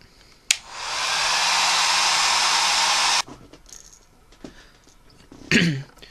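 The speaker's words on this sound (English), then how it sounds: "you can flash dry with just a, a simple hair dryer" A hair dryer switches on with a click, blows a steady loud whoosh for about three seconds drying paint on a crankbait fishing lure, then cuts off; a throat-clear follows.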